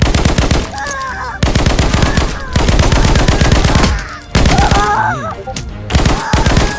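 Rapid automatic gunfire from the game Snake Force rattles loud and close in long, dense bursts separated by short pauses, with game effects chirping over the shooting.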